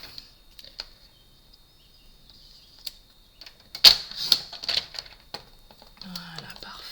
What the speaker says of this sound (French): Je coupe ma petite étiquette.